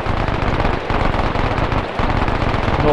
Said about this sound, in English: Was that a friendly MG42 fire?